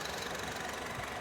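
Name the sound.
Honda Mobilio 1500 cc i-VTEC engine idling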